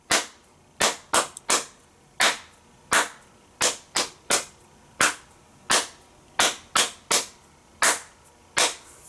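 Sharp, loud tapping strikes land at uneven intervals, some bunched close together and others spaced apart, forming an irregular beat rather than a steady pulse, with no talking.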